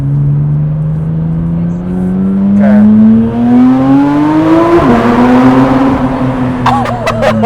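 Car fitted with a new aftermarket exhaust, close up, its engine note climbing steadily through a long rev before dropping off sharply and building again; a voice speaks briefly near the end.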